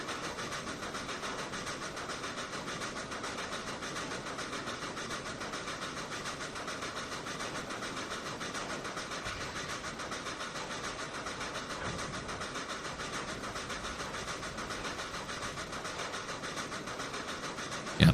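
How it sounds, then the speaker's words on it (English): A simulated train engine running along the line in Trainz 2019 on a C&O Hinton route gives a continuous, faint mechanical hum and rumble, steady throughout with no talk. "while we're watching this engine going along"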